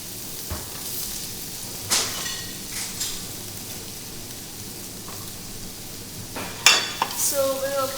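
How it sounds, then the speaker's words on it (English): Mushrooms stir-frying in oil make a soft, steady sizzle, broken by several sharp scraping and clattering stirs, the loudest near the end, with faint talk in the background. "So we will kind of stir fry the mushroom for about 3 minutes"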